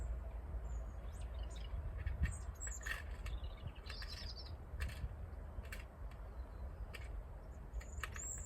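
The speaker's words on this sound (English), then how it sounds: "Can you hear them chirping away?" Small songbirds chirp in quick, scattered bursts at an allotment, over a steady outdoor rumble, with occasional creaky squeaks mixed in.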